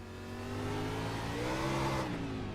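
A car accelerates hard on a dry race track during a track day, the engine note rising steadily and continuously for a couple of seconds, fairly distant and moderate in level with no voices.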